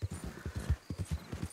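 Quick, quiet clip-clop of a Missouri Fox Trotter horse's hooves trotting in a steady rhythm in the video game Red Dead Redemption 2, soft and slightly muffled.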